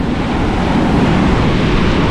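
Loud, steady rush of ocean surf with wind noise, a dense continuous roar of breaking water up close and no voices.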